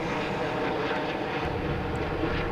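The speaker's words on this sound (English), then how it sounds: "there's a helicopter going above me." A helicopter passing overhead above an open field on a golf course, a steady, loud broadband engine and rotor drone that holds evenly throughout with no voices.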